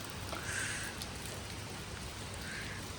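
Steady rain falls on a farmhouse during the monsoon, a soft continuous hiss with scattered drips, fairly close and unbroken, with no voices heard.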